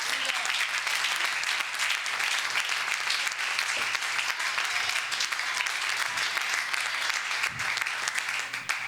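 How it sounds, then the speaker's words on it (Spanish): A church congregation breaks into sustained applause during a Spanish-language sermon, a dense, steady wash of clapping from many hands filling the room at even loudness throughout. "Denle un aplauso al Señor."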